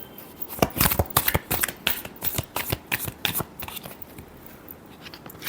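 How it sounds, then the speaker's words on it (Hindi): Tarot cards shuffled by hand in a quick run of crisp, riffling flutters and soft slaps, close and fairly quiet, with no talking. "Last shuffle."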